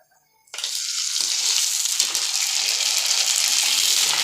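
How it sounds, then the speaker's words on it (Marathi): Sago papads fry in hot oil, a loud, close, steady sizzle that bursts in abruptly after a short silence and crackles on without a break. "आपण शाबुदाण्याच्या पापड्या तळून घेणार आहे बघा"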